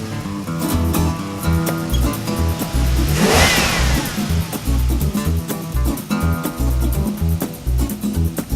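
Engine of a Chevy rental car running, a steady close mid-pitched hum that swells and eases as it revs, loud and continuous throughout with no talking.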